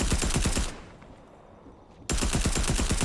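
Rapid bursts of automatic fire from a Gold Tactical SMG in Fortnite, a fast rattling volley that cuts off for about a second and a half, then resumes just as loud and rapid.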